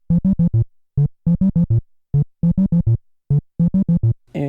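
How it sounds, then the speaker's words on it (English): Level music from the original Donkey Kong arcade video game: bright, buzzy electronic notes play alone in quick clustered groups with short pauses between, ending in a brief sweep of sound. "The level music from the original Donkey Kong arcade game sounds like this."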